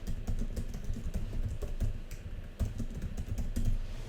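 Rapid typing on a computer keyboard fills the whole stretch with dense, steady key clicks and occasional heavier taps. It sounds close and fairly loud, with no talking.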